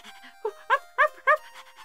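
A small dog in the game Ghost Trick lets out a quick run of yips and whimpers, four sharp bright cries in brief succession, close and clear with nothing else around them.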